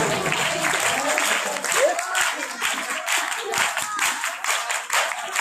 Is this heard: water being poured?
no